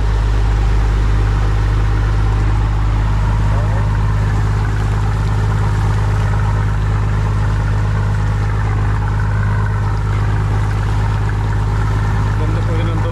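A boat engine's exhaust runs steadily, a loud low drone with a strong hum throughout, with voices talking over it.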